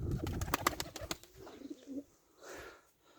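Rapid flapping wings of nearby pigeons, then a faint low coo and rustling as the flurry settles.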